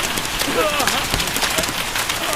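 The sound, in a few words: hail falling and pelting the ground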